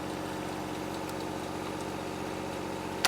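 A small John Deere tractor engine idling, a steady low rumbling drone with constant vibration throughout, close and even, with a brief sharp click right at the end.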